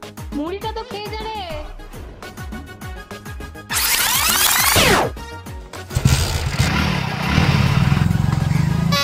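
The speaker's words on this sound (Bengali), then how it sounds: "বাইক নিয়ে কোথায় বেরিয়ে যাচ্ছিস?" A motorcycle engine runs as someone rides off on a bike, a rough low drone in the last few seconds, following music and voices in a home scene.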